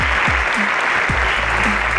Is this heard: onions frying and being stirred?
no